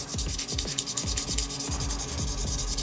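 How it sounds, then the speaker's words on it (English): Tamiya sandpaper scrubbing against hard plastic in quick, regular back-and-forth strokes, close and fairly loud, with no talking. "What I love to do is use a sanding paper."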